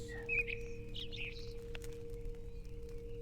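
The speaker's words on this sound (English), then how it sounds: "Why are there so many crows in the churchyard?" In a churchyard scene from a video game, faint bird calls chirp a few times over a low steady hum and quiet ambient drone.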